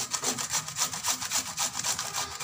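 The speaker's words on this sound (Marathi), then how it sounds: "आता हे किसणीला किसून घेते मी।" A peeled cucumber rubbed against a hand grater, giving steady rhythmic rasping strokes, about four per second, close and continuous with no talking.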